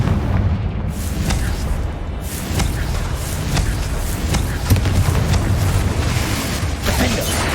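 Confringo fire spell explosions in the video game Hogwarts Legacy, a dense run of loud booming blasts and crackling impacts over a continuous rumbling battle bed, with a voice calling spell names.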